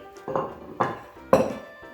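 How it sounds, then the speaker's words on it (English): Ceramic dishware clinking as a plate is brought in and set down in a kitchen during Crab Louie preparation: three distinct, fairly loud clattering knocks about half a second apart, each with a short ringing decay. "And we're gonna bring in a beautiful plate."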